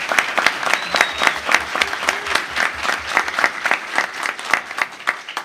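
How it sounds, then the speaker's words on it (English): Audience applause at a celebration for families facing autism and other physical challenges, a steady burst of many hands clapping with crowd noise, loud and close. "Can we give him another round of applause?"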